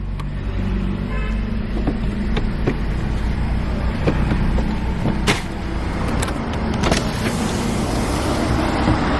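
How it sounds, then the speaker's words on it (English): A 2019 small SUV with a CVT transmission idles steadily nearby, a smooth low engine hum that holds throughout, with a few faint clicks and thumps from the car's interior. "Very smooth engine."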